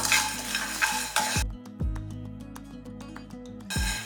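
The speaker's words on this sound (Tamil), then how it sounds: "இந்த சூட்லேயே ஒரு இணுக்களவு கருவேப்பிலையும் இதுலேயே சேர்த்துக்கலாம்" Curry leaves dropped into a hot pan of roasting pepper spices for milagu kuzhambu, a sharp sizzle that cuts off abruptly, then quieter crackling with a few clinks and scrapes of stirring, and a final burst of frying.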